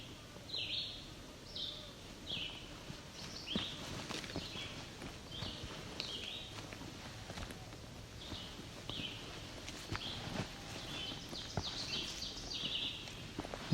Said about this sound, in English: That's the ovenbird again.